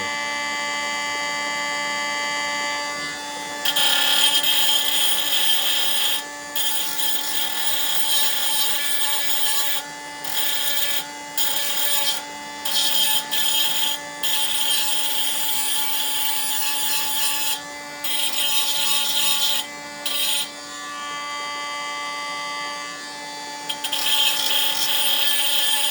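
A handheld mini grinder grinding and polishing a rock, a loud, steady high-pitched whine with brief dips and stutters as the stone is pressed against the wheel, close and continuous.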